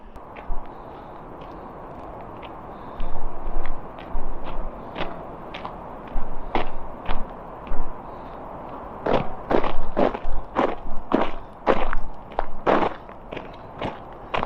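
Footsteps crunch on gravel, soft and sparse at first, then louder and quicker as the walker comes close, each step a sharp gritty crunch.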